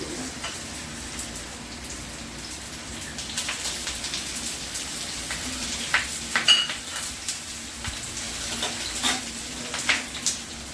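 Chholar dal paturi frying in hot oil gives a steady, close sizzle with scattered crackles and pops that grow livelier toward the end, with no voices.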